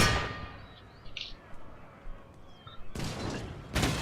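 Artillery fires during an Empire Total War battle: a loud blast at the start, faint distant thuds and clinks in between, then two sharp bursts of cannon fire near the end.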